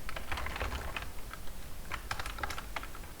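A terminal command is entered on a computer keyboard in close, brisk clusters of clicky keystrokes with short pauses, no voice.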